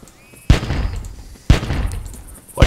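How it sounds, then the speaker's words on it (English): Gunfire in the video game Carnivores 2: two loud, sharp rifle shots about a second apart, each followed by a rolling boom and echoing tail, with a third shot beginning at the very end. "The gunshot was so loud it probably startled him."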